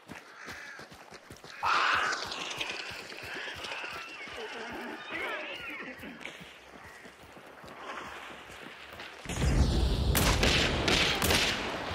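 Gunfire in a shooter: scattered sharp shots and bursts, with a loud dense volley toward the end. A player talks over the action.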